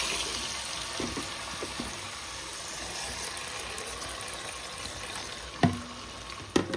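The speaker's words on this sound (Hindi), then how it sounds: "आतां हें फ्राय करता" Food fries in a pan with a constant soft sizzling hiss close by, and two sharper clicks near the end.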